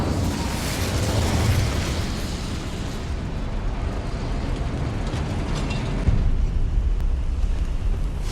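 Incendio fire spell cast in Hogwarts Legacy: a loud roaring, crackling burst of flame rushes out and holds as a dense, rumbling blaze for several seconds, then thins slightly before swelling again near the end.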